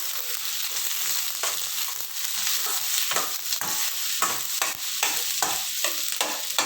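Baby corn manchurian with green onion stir-frying in a hot pan, a loud continuous sizzle broken by repeated scraping stirs, close up with no talking.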